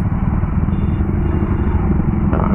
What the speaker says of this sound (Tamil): டாமினார் சவுண்ட் ப்ளூன்னு பயங்கரமா இருக்கு